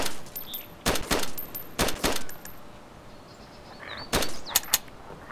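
Gunfire in the survival game DayZ, several sharp loud shots in separate bursts spaced about a second apart, with quieter mechanical clicks and faint background noise between them.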